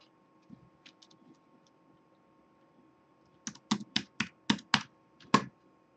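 Keys are tapped on a computer keyboard to enter a verification code: a few scattered soft clicks, then a quick run of about eight crisp, close keystrokes.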